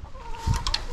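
Chickens clucking on a farm, a few short clucks and a brief squawk close by over a faint steady hum, with no talking.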